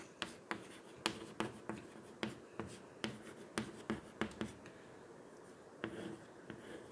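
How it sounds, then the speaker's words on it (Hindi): Pen writing an example on paper during a Hindi grammar lesson, heard as a series of quiet, irregular scratchy strokes and taps spaced through the clip, close up with no speech over them. "देखिए मैंने उदाहरण में मैं लिख रही हूँ"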